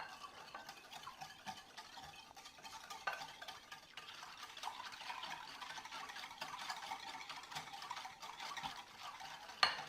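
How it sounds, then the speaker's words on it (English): Steady whisking of a sugar mixture for simple vanilla ice cream, stirred until the sugar melts, giving a soft continuous scraping and ticking close by, fairly quiet, with no talk. "Then we'll whisk that together."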